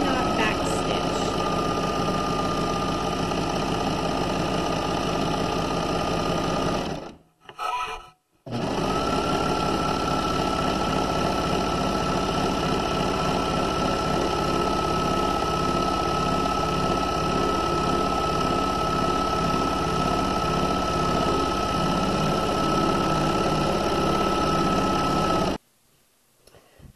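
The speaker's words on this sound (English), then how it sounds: "And with a serger, you do not back stitch." A serger sewing machine stitching pajama pant seams, a loud, rapid mechanical whir that runs steadily, cuts out briefly twice near the start, resumes, and stops just before the end.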